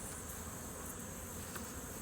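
Honeybees buzz in a dense, steady drone around an opened, queenless hive with a strong population, close and continuous, with no talking.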